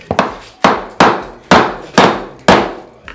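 A hammer strikes repeatedly while pulling up old bedroom floor covering during a renovation, six sharp, loud whacks spaced about half a second apart, each ringing briefly before the next blow.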